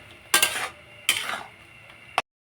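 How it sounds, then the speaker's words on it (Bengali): Spices and potatoes being stirred in a pan while cooking egg curry, heard as two scraping bursts of a utensil against the pan followed by a short sharp clink, close and alone. "এখন এই মশলা আর আলু ভালোভাবে কষিয়ে নিব।"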